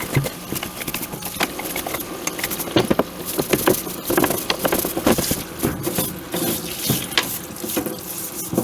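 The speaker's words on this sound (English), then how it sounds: "So next step is the parts washer." Water runs and splashes in a parts washer while a sawmill file guide part is cleaned, with irregular sloshing and spattering bursts, steady and fairly close, with no talk.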